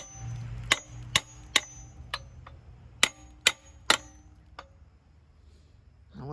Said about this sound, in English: Let's pop it with the hammer, and then it probably will come loose.